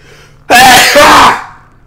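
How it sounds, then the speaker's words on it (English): An exaggerated sneeze bursts out once in the middle, loud and close, with a breathy rush that quickly fades to silence, heard during a let's-play of the Uncharted 4 game. "even when I'm sneezing, the only thing coming out is air."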